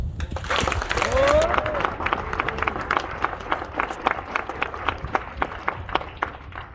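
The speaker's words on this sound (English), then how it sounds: "A round of applause for the Army's newest TV2s." Applause breaks out for newly promoted army recruits at a recruiting station ceremony: a burst of clapping that thins into scattered, separate claps over several seconds.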